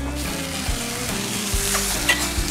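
Blue-green wrasse fillets fry skin-side down in a pan over medium heat, giving a loud, steady crackling sizzle with small bursts of spatter throughout and no talking.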